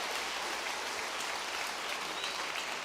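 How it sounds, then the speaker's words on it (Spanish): A church retreat audience in Chiapas, Mexico, applauding in a dense, even roar of clapping that fills the whole stretch without pause. "Denle ese aplauso al Rey bendito."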